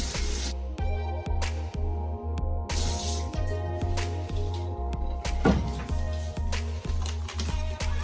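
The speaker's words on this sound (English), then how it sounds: "I'm just gonna rinse off my hand and just cover them up with my clean film." Tap water runs steadily while hands are rinsed at a sink in a home kitchen during chicken wing prep, a continuous close splashing hiss with small shifts as the hands move through the stream.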